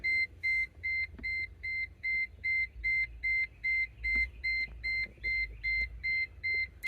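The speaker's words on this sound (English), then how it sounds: "that beep is actually from the vehicle, not the scanner" A steady electronic warning beep from a Mercedes-AMG G63 repeats about twice per second, a clear two-tone chime pulsing evenly with low rumble beneath and no voices.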